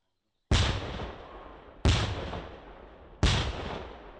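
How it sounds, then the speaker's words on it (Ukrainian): Three heavy TNT charge blasts from a pyrotechnics training exercise boom one after another at even intervals, each sharp crack trailing off into a long rumbling decay. "від вибуху під ногами тремтить земля"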